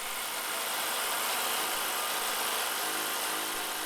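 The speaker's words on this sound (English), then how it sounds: "it only takes a matter of seconds to pump the tyres up to the correct pressure" A Ryobi battery tyre pump runs steadily while inflating a motorcycle tyre, giving a continuous, even motor drone with a slight shift in tone near the end, heard alone without talk.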